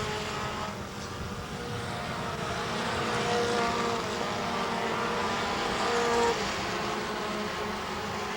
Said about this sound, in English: and we're racing once again.